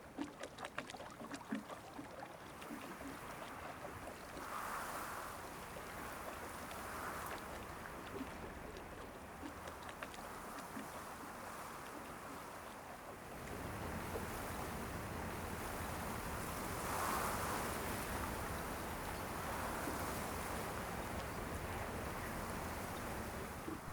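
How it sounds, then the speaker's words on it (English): A dugout outrigger canoe crosses Lake Tamlagan, with quiet water lapping and splashing against the hull over a faint, steady outdoor wind ambience throughout. "a ride in a dugout, outrigger canoe to our starting point on the other side of the lake"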